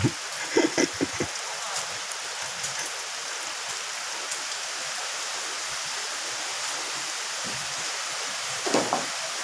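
Steady rain falls over a forest, a continuous broadband hiss of water that holds level throughout, with a few brief louder knocks and thumps near the start and the end.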